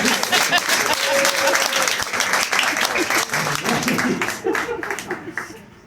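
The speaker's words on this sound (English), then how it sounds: "Give her a big round of applause!" Loud, sustained audience applause at a live magic show, dense clapping from a crowd for almost six seconds before tapering off at the end.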